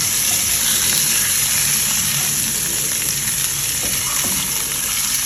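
Barramundi frying in oil in a pan, a loud continuous close sizzle and crackle with no talk.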